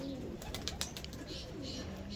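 Pigeons in a loft coo softly and steadily, with a few brief higher chirps and flutters standing out against a constant low murmur of background noise.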